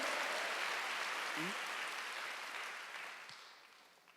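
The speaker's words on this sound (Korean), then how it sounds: "박수 한번 드리세요." A church congregation applauds during a Wednesday worship sermon, a soft, diffuse wash of clapping that holds steady and then slowly fades toward the end, with a brief vocal sound near the middle.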